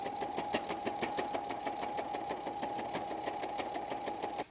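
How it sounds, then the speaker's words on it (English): A sewing machine stitches a quilted tote bag in a fast, even run of needle clicks over a steady motor hum, close by, stopping abruptly at the end. "I would double stitch that and back stitch it"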